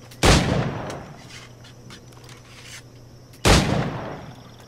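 Two sharp gunshots in Assassin's Creed 4: Black Flag, fired at targets, each a loud crack with a decaying tail, about three seconds apart over a steady low game hum.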